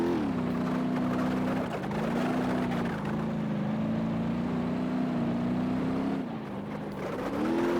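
A car drifting in BeamNG.Drive, a steady droning engine note that dips and recovers as the car slides through corners, loud and continuous with no talking.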